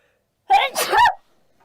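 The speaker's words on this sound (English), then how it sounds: "I think I just sneezed out demons." One loud, close sneeze with a sharp intake and a forceful burst, then silence.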